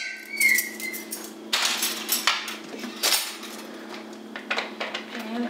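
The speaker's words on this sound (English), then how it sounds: "I'm going to go ahead and give that a little bit of a stir." A utensil clinks and scrapes against a bowl while pancake batter is stirred, irregular clattering strokes in a quiet room with a faint steady hum beneath.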